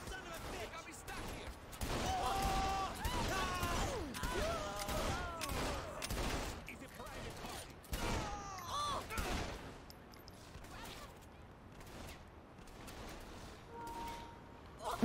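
Pistol fire in Saints Row 3 comes as a rapid series of loud, close shots mixed with game music and effects, with people talking throughout.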